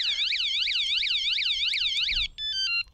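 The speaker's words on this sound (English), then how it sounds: "And then finally, the alarm will go off." A loud e-bike alarm siren wails up and down in rapid repeated sweeps, then switches to a short stepped beeping pattern, close and steady.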